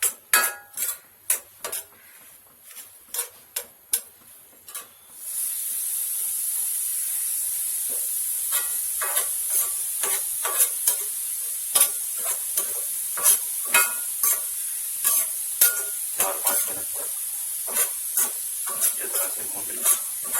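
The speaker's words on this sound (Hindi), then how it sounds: "भूनना हल्की आंच पे इसमें ताकि जले नहीं" Halwa being stirred and roasted in a pan over a low flame: a steady hiss of sizzling sets in after a few seconds of spoon scrapes, with repeated scraping strokes of the spoon continuing over the sizzle throughout.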